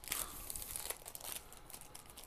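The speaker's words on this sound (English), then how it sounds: "let's move it to the side and we'll unwrap the battery." Thin plastic wrapping crinkles and tears as it is pulled off a Coolpad Canvas phone battery, a soft, close, continuous rustling.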